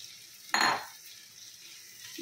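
A spatula scrapes and knocks inside a kadai while breaking up paneer for bhurji, one short clattering burst followed by quiet, then a faint clink at the end, with no voices.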